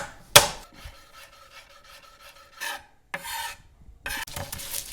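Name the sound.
shredding organic carrots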